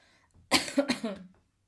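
A single close, sharp cough burst followed by a short rough trailing cough sound, alone in a quiet room.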